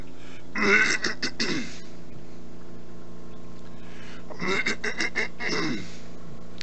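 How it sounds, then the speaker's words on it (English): Two bursts of harsh throat clearing and coughing, close and fairly loud, separated by a few seconds of quiet. "gonna cough again, damn it."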